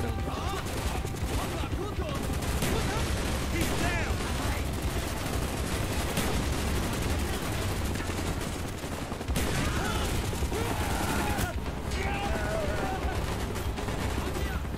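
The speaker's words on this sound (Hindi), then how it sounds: "ये गन बढ़िया है" Dense gunfire from a gun in Call of Duty: Black Ops, rapid overlapping shots and bursts filling the whole stretch at loud, steady level, with a voice talking over the battle noise.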